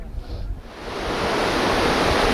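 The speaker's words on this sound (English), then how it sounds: "there's the waterfall" A distant waterfall seen from a high viewpoint on a summer hike, a steady broadband rushing roar that swells and stays even and continuous after a brief quieter start.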